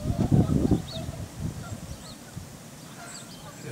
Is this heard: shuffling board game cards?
no